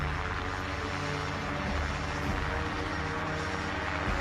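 An aircraft in flight just before landing, its engine giving a steady, broad drone that fills the whole stretch with a constant low rumble and no voices over it.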